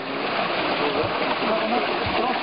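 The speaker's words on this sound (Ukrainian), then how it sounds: "А оце штучний так званий водоспад для забору води на оце валило." Artificial waterfall at a mountain water intake channel in the Carpathians, giving a steady, close rush of splashing water that fills the whole clip.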